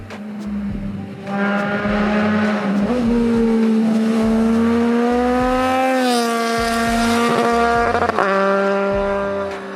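A Triumph triple-cylinder motorcycle engine revs loudly and steadily, its deep exhaust note rising in pitch as the throttle opens, then settling back, close and continuous with no talk.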